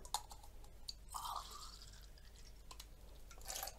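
Water rinses out a test tube during chlorine and pH testing: faint, close splashing and dripping in short bursts against a quiet background.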